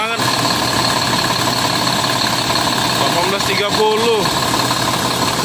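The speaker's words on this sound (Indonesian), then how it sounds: "Mesinnya besar banget." Mercedes-Benz O500R bus engine idling with a steady, even mid-pitched rumble, heard close under a person talking.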